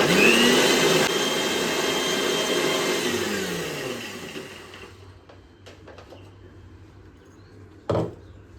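A kitchen mixer grinder whirs loudly, grinding cashews and fennel seeds into a paste for a South Indian mutton curry, then stops and leaves a few faint clicks and a short clatter.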